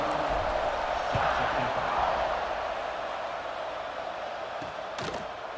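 A stadium crowd in the video game EA Sports College Football 26 gives off a steady, fairly faint roar of massed voices ahead of a kickoff, holding at an even level throughout.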